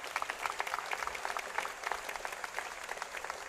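A university convocation crowd applauds the orientation team, a full wash of many hands clapping at once, steady and fairly distant throughout.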